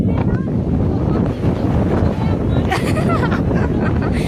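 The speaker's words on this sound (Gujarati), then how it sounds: "કેટલો પવન આવે" Strong wind at the seashore buffets the microphone in loud gusts, with a rushing roar and what sounds like sea water nearby.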